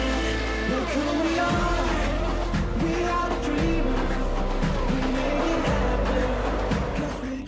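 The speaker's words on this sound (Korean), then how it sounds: "레이싱카의 짜릿한 속도 경쟁이 펼쳐지는 곳인데요" Racing cars on a motor racing circuit, loud engine roar with repeated rising and falling pitch sweeps as cars accelerate and brake through corners, sustained close and continuous.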